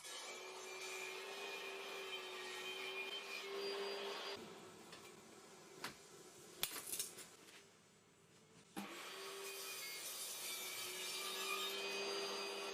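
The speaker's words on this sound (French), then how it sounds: "J'ai ensuite réglé ma scie circulaire et coupé les pièces en largeur selon les dimensions de mon plan." A circular saw whines steadily as it cuts through plywood, drops away briefly in the middle with a few knocks, then resumes cutting.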